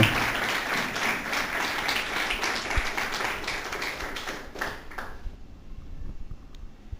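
A church congregation claps loudly and continuously for about five seconds, then the applause cuts off, leaving a quiet room with faint scattered sounds.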